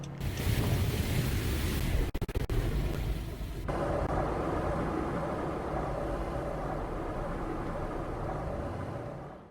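Car wash water spraying over a car in the Roblox game Greenville, a steady dense rushing hiss with a brief sputtering break near the middle, continuous and close without any talk.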